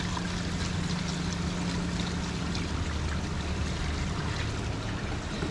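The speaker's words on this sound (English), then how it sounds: "Dump some of that water out." Water dumped out of a bait bucket full of shad at the water's edge: a steady broadband splashing and trickling pour, with a low hum underneath, running for several seconds with no talk.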